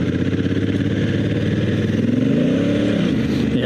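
Dual sport motorcycle on Continental TKC70 60/40 adventure tires riding gravel corners, its engine droning steadily and close with a rising rev near the end as the rear tire slides loose.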